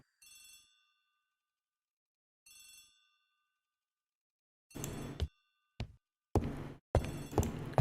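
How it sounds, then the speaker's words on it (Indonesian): A telephone bell rings in a hallway in an Agatha Christie mystery adaptation, two short bright trills with a pause between, followed by loud clattering and thumping noises. "The telephone in the hall is ringing."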